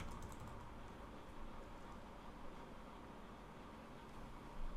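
Quiet, steady tapping on a computer keyboard as a phone number is typed, soft clicks running continuously over a faint background hiss.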